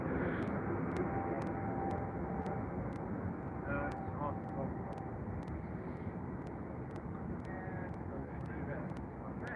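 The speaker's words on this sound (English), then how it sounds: "Currently got 2 aircraft taxiing down the taxiway." Jet aircraft taxiing along a taxiway at London Heathrow airport, a steady, continuous engine rumble and roar held at a constant level, with faint tonal whine above it and speech mixed in throughout.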